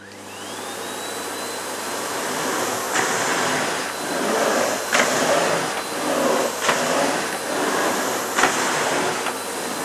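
Miele Complete C3 Comfort Boost Ecoline vacuum cleaner switched on and running on carpet, a steady loud motor whine with rising pitch at startup and recurring surges as the head moves, no talking.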